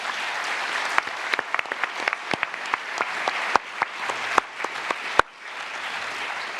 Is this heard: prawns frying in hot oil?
no